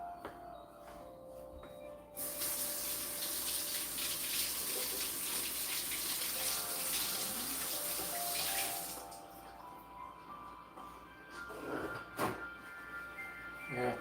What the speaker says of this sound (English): Let's get our tomato out. Need to rinse this off.